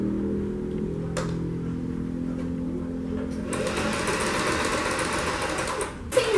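A domestic sewing machine stitching a lastex dress: a steady mechanical whirring hum, then a faster, louder run of stitching after a short pause, with a brief stop near the end.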